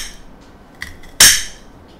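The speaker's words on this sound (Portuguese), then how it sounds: "Aqui você vai picar esse alho" A knife chops peeled garlic on a hard surface: one soft tap, then a single sharp, close knock that rings briefly before fading into quiet.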